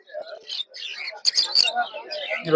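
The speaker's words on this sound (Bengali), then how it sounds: "দর্শক দেখতে পাচ্ছেন এই জায়গায় হচ্ছে ককাটাল পাখি" Cockatiels call and chirp at a Puthia bird market, several short bright whistles and chatter close by, mixed with someone speaking.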